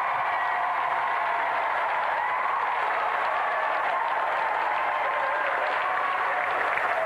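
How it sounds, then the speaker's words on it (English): Studio audience of a TV video-game show applauding a special guest, a steady dense wash of clapping sustained and loud throughout with no pauses. "Another round of applause for our special guest, Johnny Herbert!"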